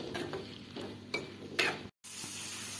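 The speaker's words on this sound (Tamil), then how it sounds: "அப்பப்போ எடுத்து கிளறிக்கிட்டே இருக்கணும்" Ivy gourd (kovakkai) cooking in a pan is stirred with a utensil, giving a steady soft sizzle with scraping scrapes and a few sharper clinks, broken by a brief silent gap.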